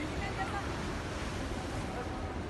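Surf washing onto Pandawa Beach in Bali with wind buffeting the microphone, a steady broadband roar that holds evenly throughout at a moderate distance.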